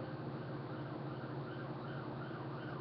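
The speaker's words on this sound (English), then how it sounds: "Ambulance in the background." An ambulance siren wails steadily at a distance, muffled and continuous beneath a noisy outdoor background.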